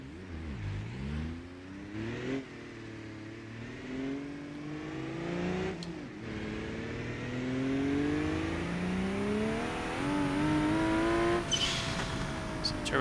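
Video game turbocharged car on a test drive, engine revving and climbing in pitch with rising harmonics as the turbo spools up, growing steadily louder toward the end with a brief whir near the finish.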